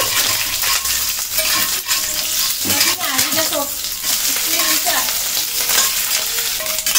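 Loud, continuous sizzling of small mourala fish frying in hot oil, with metallic clinks and scrapes of a utensil turning them; faint voice-like sounds underneath.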